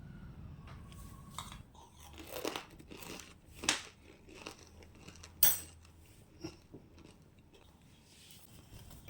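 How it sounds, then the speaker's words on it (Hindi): Homemade crunchy namkeen snack mix being crunched and chewed up close, with several sharp crisp bites and crackles standing out over softer crinkling and chewing noises; no talking. "और बनाने का मज़ा तो तब है जब मैं इसका जो क्रंचीनेस है वो आपको सुना सकूं।"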